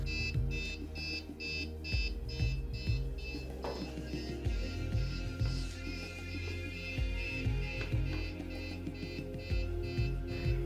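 An electronic buzzer on fence post self-alignment equipment beeps in a rapid, steady repeating pattern, continuous and fairly close, over a low mechanical hum, signalling an axis value out of range.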